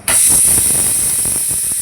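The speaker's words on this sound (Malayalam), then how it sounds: "നമുക്ക് സ്റ്റൗ കത്തിക്കാം." A gas stove burner hisses on as it is lit, a loud, close, steady rush of gas lasting under two seconds before cutting off abruptly.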